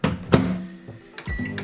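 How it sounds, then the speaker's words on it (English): Microwave oven clunks and beeps as rice goes in to heat: a few sharp close knocks from the door and lid, then the start of the oven's hum, with no talk. "I'm going to heat up my rice in the microwave"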